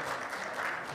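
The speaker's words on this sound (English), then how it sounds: "Give yourself a round of applause." Church congregation applauding at an Easter service, a steady wash of clapping from many hands throughout the brief moment, moderately loud and without speech.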